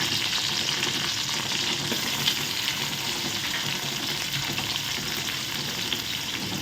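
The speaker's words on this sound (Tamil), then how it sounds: "இப்போ கட் பண்ணி வச்சுருக்க வெங்காயம் கருவேப்பில் பூண்டு போட்டு நல்லா வதக்குவோம்" Onion, curry leaves and garlic sauté in hot oil with a steady, loud sizzle that continues evenly without a break, with no talking.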